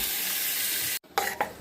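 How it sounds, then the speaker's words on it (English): Shrimp sautéing in a pan over medium heat, a steady close sizzle and hiss for about a second, then a brief silence before two shorter bursts of frying crackle. "then we will saute the shrimp"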